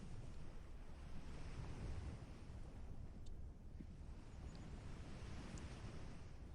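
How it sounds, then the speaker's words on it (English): Ocean surf rolls and washes continuously, with steady wind noise buffeting the microphone and no voices. "As we listen to this breathing ocean, we find ourselves becoming one with it."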